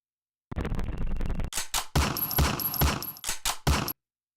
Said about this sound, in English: Should we find a gun, like a gunshot sample?